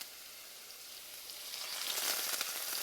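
Four cloves of crushed garlic hit a hot pan, bringing a soft, steady sizzle that swells slightly louder toward the end of the short stretch.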